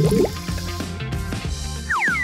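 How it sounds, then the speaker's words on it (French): Ice cream plunged into hot water, giving a short series of close liquid drips and plops with a rising gurgle near the end, alone without talk. "Plonge la glace dans de l'eau chaude."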